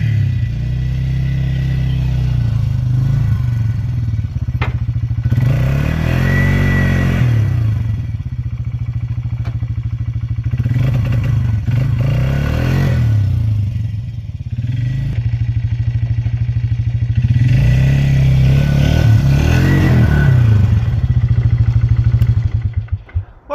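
An old Polaris ATV engine revs repeatedly while driving in four-wheel drive, with several loud rising and falling bursts over a steady chugging idle, close and unaccompanied by speech.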